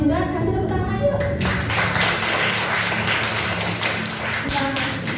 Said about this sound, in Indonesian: Yang masih semangat untuk memuji Tuhan, kasih tepuk tangan lagi yuk.